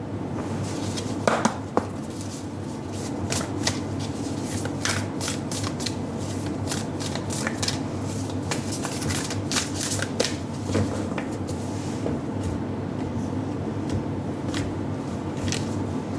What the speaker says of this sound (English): I'm going to shuffle out the other cards as well before we begin your reading.